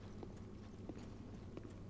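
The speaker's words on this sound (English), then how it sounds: "you can hear our footsteps" Footsteps in Dark Souls, a faint run of hollow, evenly paced clopping steps that repeat steadily, with no voices.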